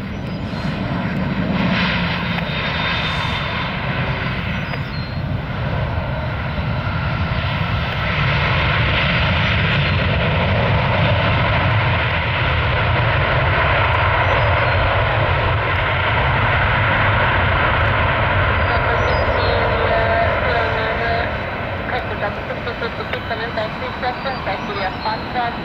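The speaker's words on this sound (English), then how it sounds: "here's another airplane that's on approach, not on final yet, but it's going to be turning around" An airliner passes overhead on approach near RSW airport, a loud, steady jet engine roar that holds for the whole long stretch, with a voice talking over it.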